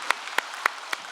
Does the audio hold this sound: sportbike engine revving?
no